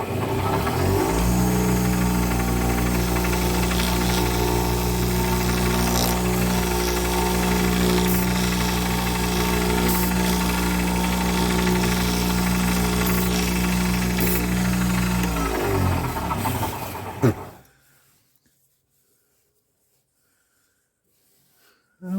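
A wood lathe spins a piece mounted between cup centers while a nub is turned off, a loud continuous humming drone with a steady low tone that runs for about seventeen seconds before abruptly stopping into silence.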